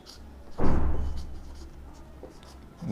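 Chalk or marker writing on a classroom board during a physics lesson on image formation by spherical mirrors, a scratchy stroke burst starting sharply and fading over a couple of seconds, with another stroke beginning near the end; no talk.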